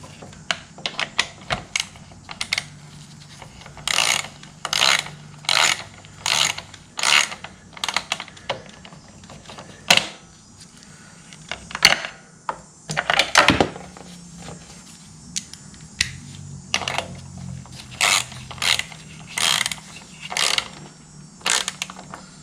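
A hand ratchet tightens bolts on a thirty-year-old generator, giving bursts of rapid clicking in irregular runs with short pauses between them. The clicking is close and fairly loud over a quiet background, with no talking.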